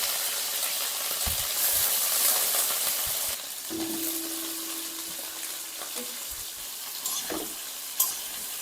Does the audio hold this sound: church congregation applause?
no